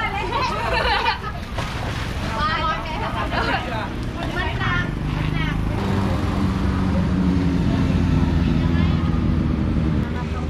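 A motorcycle rides past through a busy Songkran water-festival street in Nakhon Ratchasima, Thailand, its engine rumbling steadily amid loud, continuous crowd and traffic noise, with voices chattering throughout.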